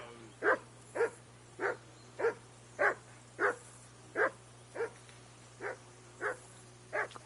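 A dog barks repeatedly at the player in Kingdom Come: Deliverance, about eleven evenly spaced, fairly sharp barks standing alone over a faint steady background hum.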